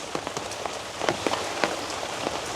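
Rain patters steadily on a surface in a village setting, a dense continuous hiss broken by sharper, irregular drops landing close by, with no voices.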